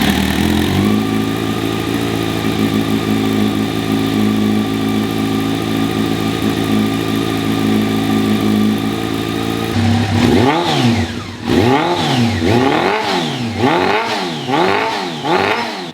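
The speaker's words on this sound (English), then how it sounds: "The very first thing we're going to do is fire this bike up" A Honda CBR600 F3 motorcycle starts from cold and settles into a steady, loud idle, then revs repeatedly in rising and falling sweeps near the microphone.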